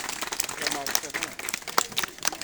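Villagers at an outdoor April 23 children's festival applaud with loose, scattered clapping, heard over crowd chatter and a background murmur.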